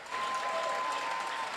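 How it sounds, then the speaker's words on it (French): Steady, dense applause from a large crowd, sustained at a constant level throughout the short stretch, greeting a political speech by Captain Ibrahim Traoré of Burkina Faso. "un tonnerre d'applaudissements"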